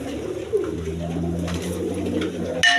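A pair of Lahori pigeons, male and female, coos softly and continuously up close against a quiet background, with a brief knock near the end.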